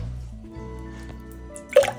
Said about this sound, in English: got a little drip in there